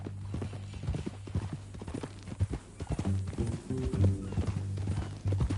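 Horse hooves clip-clop in the Western video game Red Dead Redemption 2, a steady, even walking rhythm close by over a low droning hum, with no talking.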